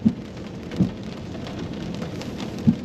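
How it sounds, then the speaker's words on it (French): Rain falls on arrival on a wet day in Northern Cyprus, a steady close patter of drops on surfaces, with a few low thumps standing out over the constant wash, and no talk. "On arrive avec une journée pluvieuse, mais la pluie, c'est une baraka."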